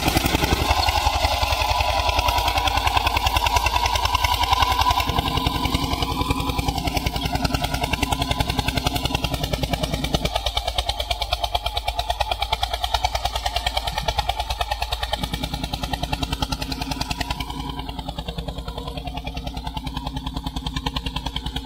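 A new-model Eicher 241 tractor with a top-mounted silencer runs in a wet field, giving a loud, close, steady diesel drone that holds without a break for the whole stretch.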